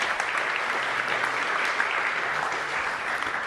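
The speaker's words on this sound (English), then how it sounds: "Please give some applause." A conference audience applauds after a talk, giving steady, even clapping from a sizable crowd in a hall that runs for a few seconds at moderate loudness.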